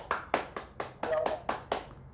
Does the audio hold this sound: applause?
yes